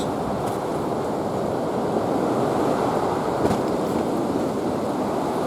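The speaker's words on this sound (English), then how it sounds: "as you can hear the wind, as forecast, it's going to pick up to about 50 mile an hour tonight" Strong, steady wind at a wild campsite roars and buffets continuously, a dense rushing noise with no letup and no voices.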